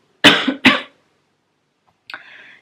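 A person who has been ill coughs twice in quick succession, harsh and close, then after a silent pause gives a shorter, lighter cough or throat clear.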